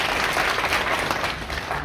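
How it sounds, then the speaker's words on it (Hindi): Trainees at a tower crane operator and height rescue safety training applaud their friends, a steady, dense burst of clapping from a group that holds at full strength throughout. "जोर से ताली बजाएं अपने दोस्तों के लिए।"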